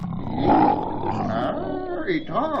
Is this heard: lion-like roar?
yes